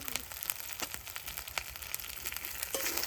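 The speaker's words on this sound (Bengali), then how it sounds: "এবার আমি দুটো এখানে কাঁচা লঙ্কা চেরা করে নিয়েছি দিয়ে দেব আর একটা মাঝারি সাইজে টমেটো কুচে নিয়েছি দিয়ে দেব" Slit green chillies and chopped medium tomato hit hot oil in a frying pan with fried potatoes, giving a steady crackling sizzle with a few sharper pops throughout.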